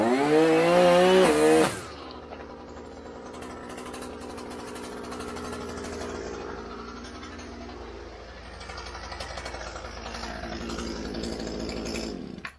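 A Shindaiwa string trimmer with a Speed Feed 400 head runs steadily after a brief louder burst at the start, its engine droning on at an even pitch for several seconds.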